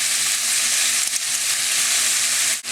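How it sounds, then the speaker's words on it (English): Garlic and scallops fry in a pan with a steady, loud, dense sizzle that runs unbroken, with one brief dip near the end. "I'm going to go ahead and add the garlic now so that it doesn't burn"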